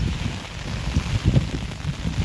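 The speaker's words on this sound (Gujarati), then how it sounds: "વરસાદ ફરી વખત ચાલુ થઈ ગયો છે" Steady rain falls on an outdoor surface in the Gir forest area, a soft broadband patter with low rumbling bursts, likely wind gusts against the microphone, rising and falling throughout.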